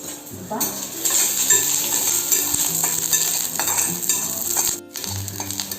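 Onions being fried and stirred in a pan while making a Marathi-style prawn curry, with a steady close sizzle, spoon scraping and clinks of the pan throughout, briefly dipping near the end.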